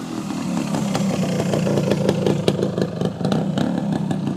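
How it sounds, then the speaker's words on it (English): A 1975 Yamaha DT250 two-stroke motorcycle runs close by with a loud, raspy, crackling exhaust note, the engine burbling unevenly with quick blips of throttle throughout. "Listen to that exhaust note."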